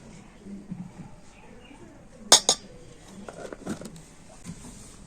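A metal spoon clinks sharply against a bowl while powdered milk is spooned in for a sweet pitha batter, two quick bright strikes close by, followed by a few softer scraping taps in a quiet kitchen.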